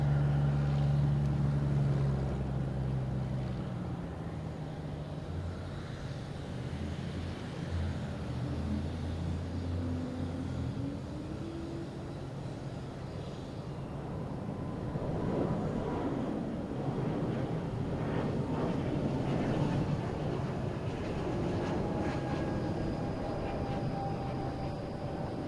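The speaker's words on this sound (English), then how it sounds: "next taking off is a JetBlue heading to JFK in A220" A JetBlue Airbus A220 takes off at Boston Logan Airport, a steady, distant jet roar that swells and holds throughout, under a low engine rumble with a continuous broadband wash and no talking.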